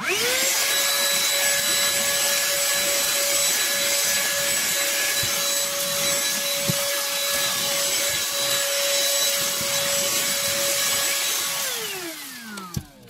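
A handheld vacuum cleaner with a small brush attachment runs on carpet, giving a steady, loud motor whine with bright overtones that holds for about eleven seconds and then spins down at the end, with no talking.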